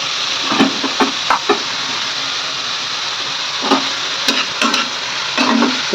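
Bitter gourd fries in a pan under a continuous loud hiss, with repeated scraping and knocking of a spatula against the pan in short bursts.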